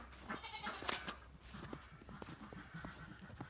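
Goats in backyard farm pens at night bleat in a few loud, close calls near the start, followed by softer shuffling and hoof-like taps against a low background hum.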